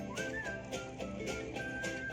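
Someone whistles a light, wavering tune at moderate volume over steady background noise, with no talking.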